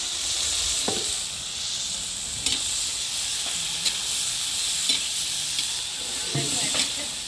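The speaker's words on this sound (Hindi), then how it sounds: "बाकी इधर कढ़ाई में डाल दी, ये सब फ्राई हो जाएंगे" Chickpeas fry in a kadhai with a steady, close sizzling hiss, broken by a few soft clicks and light knocks. No one speaks.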